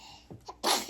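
One close sneeze ends a quiet moment, led by a couple of short sharp inhales and then a loud explosive burst.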